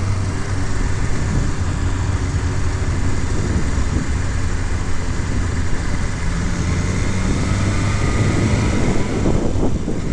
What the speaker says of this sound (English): We'll try to get some RPMs on here. Throttle into them